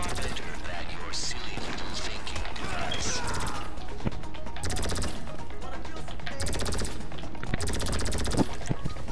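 Gunfire and rocket explosions from GTA Online, with rapid bursts of shots and crashing blasts running continuously through the scene while players talk over the chaos.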